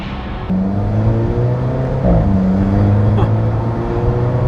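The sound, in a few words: Alfa Romeo 4C coupe exhaust popping as it shifts gears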